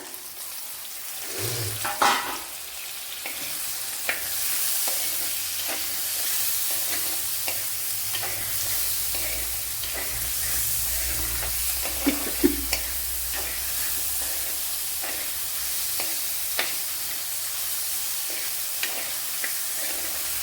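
A large tomato goes into frying shallots for a fish curry, then a steady hiss and sizzle of the pan carries on at moderate loudness, with a few sharp stir and scrape knocks near the start and middle and no talk.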